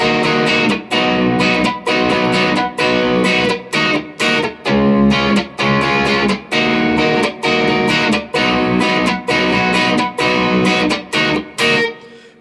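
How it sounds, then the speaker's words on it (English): Electric guitar with slapback echo switched off and a fair amount of gain strumming the chorus chords of a song, loud rhythmic strums with short gaps between chord groups. "I've turned off the slapback to play the chords for the chorus."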